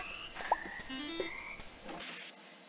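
Croaking frog in the video game FurQuest, a few brief, bright croak blips spaced over a couple of seconds, quiet and isolated without any voices.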